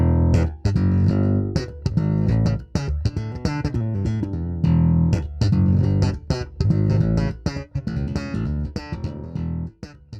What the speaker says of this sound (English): The Lightwave also gets a great slap tone.